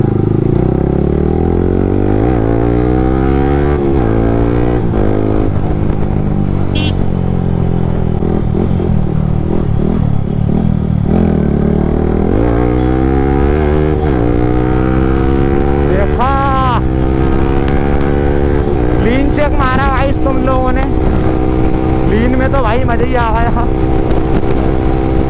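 A motorcycle pulls hard along a main road, engine note climbing repeatedly as it accelerates through gears, loud and close with constant wind and road roar underneath.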